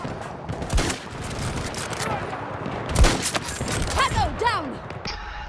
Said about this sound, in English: It's a pretty fast firing sniper rifle with a lot of different attachment options